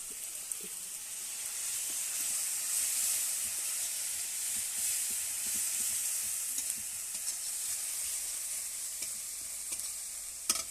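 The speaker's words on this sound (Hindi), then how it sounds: "सोरिष जीरा लंका बाटी पियाज लंका गुंड पकईबा" Mustard seeds, cumin, chili paste and onion frying in a pan for a potato curry, a continuous close sizzle with soft stirring scrapes and occasional small pops throughout.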